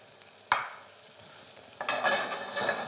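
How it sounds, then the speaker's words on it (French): A slice of bread gently frying in a pan gives a soft, continuous sizzle, broken by a sharp clunk early on and then turning louder and busier as the cooking continues. "Je fais cuire gentiment ma tartine."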